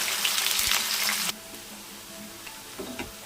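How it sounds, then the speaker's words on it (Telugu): Okra (lady's finger) frying in oil: a loud, dense sizzle that cuts off abruptly, leaving a quiet background with a few faint clatters and crackles, no talking. "చూడండి ఈ విధంగా ఫ్రై అయిన తర్వాత తీసుకోవాలి మిగిలిన బెండకాయలు కూడా వేయించుకున్నాము"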